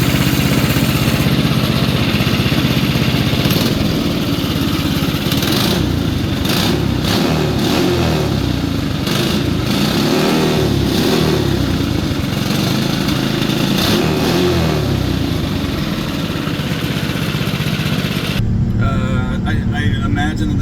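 A racing go-kart's Predator Ghost engine with billet flywheel and billet rod revs loudly close by again and again, rising and falling over a rough idle, then drops away near the end.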